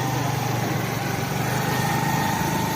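Motorbike engine running steadily on a night ride near a lighthouse along sandy ground, a continuous close drone with a humming pitch and no talk over it.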